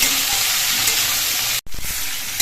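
Vegetables salted and frying in a pan make a loud, dense, continuous sizzle with a hiss of steam and a quick stir partway through.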